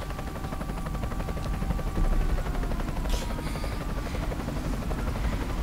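A helicopter in Shadow of the Tomb Raider drones steadily, its rotor chop a continuous loud throb with faint crackles over it and no talking.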